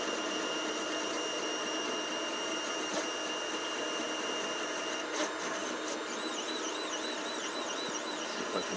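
An Artillery Sidewinder X3 Pro 3D printer printing, with a continuous faint mechanical hum, whirring stepper-motor tones that rise and fall, and a few small clicks.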